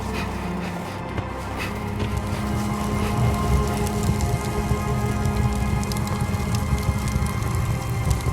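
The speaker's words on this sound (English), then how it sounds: "Hail's too strong. I can't get through." Hail pelts down hard in the video game The Fidelio Incident, a dense, steady hammering clatter that swells slightly and keeps going without a break, with no talk over it.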